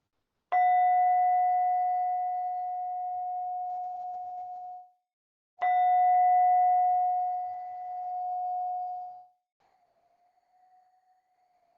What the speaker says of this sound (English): And then just listening out for the sound of the bell.